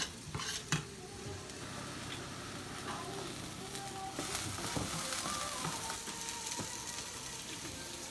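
Pork browns in a hot pan for rice, a steady sizzle and frying hiss running throughout with occasional stirring scrapes and clinks of a utensil against the pan.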